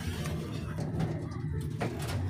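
Racing pigeons coo steadily in a breeder loft, with low murmuring calls filling the background and a faint voice at times.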